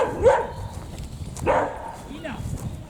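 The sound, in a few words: dog barking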